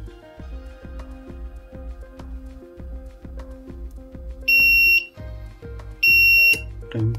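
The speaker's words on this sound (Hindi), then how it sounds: "टाइम खत्म होने के बाद बजर बीप देता है और बंद कर देता है चार्जिंग।" A buzzer at a solar-powered EV charging station sounds as the charging time ends, giving two loud, sustained electronic beeps over a repetitive mechanical background pattern.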